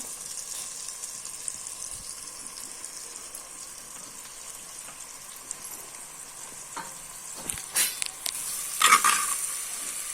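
Boiled potatoes are stirred into fried onions in a pan over a faint, steady sizzle, with a few scrapes and clinks of the spoon growing busier toward the end.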